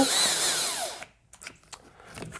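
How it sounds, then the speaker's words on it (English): Battery-powered drill boring into a hockey skate during a tendon guard installation, a loud whine for about a second that winds down quickly, followed by quiet clicks and handling noises. "So you'll go ahead and"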